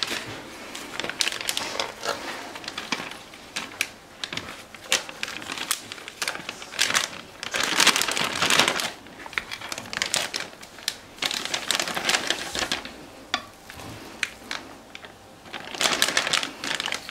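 Plastic zip bags handled in a kitchen, producing close, irregular crinkling and rustling bursts that come and go throughout with brief pauses, no talking.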